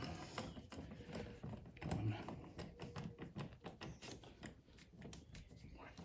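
Tightening a part on a Mazda MX5 NC Mk3 Miata throttle body: a run of quick mechanical ratchet clicks and small metallic taps, close and fairly quiet, continuing steadily throughout.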